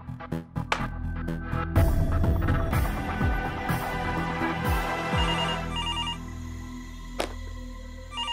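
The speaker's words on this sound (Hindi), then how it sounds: "किसका फोन आ गया ये?" A telephone rings with a melodic ringtone in a Hindi TV drama scene. It repeats steadily for several seconds, fairly quiet and mixed with background music and room sound.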